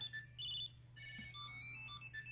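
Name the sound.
smart keychain ringtone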